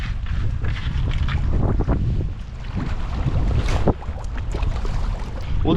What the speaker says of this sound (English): It's blowing about 15 knots right now in my face